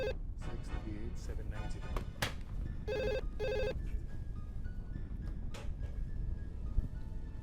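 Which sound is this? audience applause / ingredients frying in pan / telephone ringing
telephone ringing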